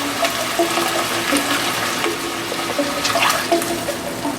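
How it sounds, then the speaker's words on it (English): Chicken broth pours into a pan of shallots and garlic with a steady close wash of liquid splashing and burbling that runs without a break. "we're gonna add 2 cups of chicken broth to the shallots and the garlic"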